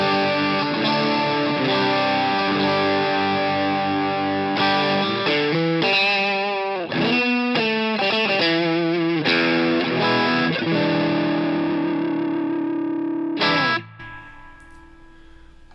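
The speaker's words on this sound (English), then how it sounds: "And then this is the stock overdrive on top of that." An electric guitar through a stock overdrive pedal plays a run of gritty chords and rhythmic stabs, then ends on a ringing chord that is abruptly muted.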